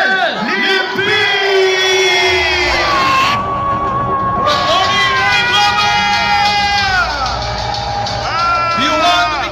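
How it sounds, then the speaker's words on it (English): A large audience at a motivational seminar cheers and whoops loudly and continuously, with many voices shouting together in a dense, roaring crowd sound that swells and dips for several seconds. "a big hand of applause for our very own Mr. Arnel Limpi"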